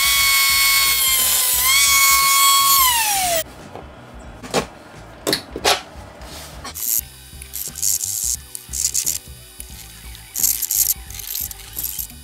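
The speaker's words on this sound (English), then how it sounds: "It's just goof off, 2 rags, wet and dry, a knife and just scraping" Knife blade scraping contact cement glue residue off a kitchen Formica surface with Goof Off and rags, giving irregular close scraping and rubbing strokes after a drawn-out tonal whine at the start.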